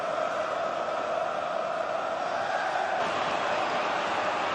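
Steady roar of a football stadium crowd during the closing seconds of a fifth-round cup replay, a dense continuous wash of massed voices heard from a distance at an even level throughout.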